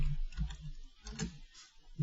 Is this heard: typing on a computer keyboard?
yes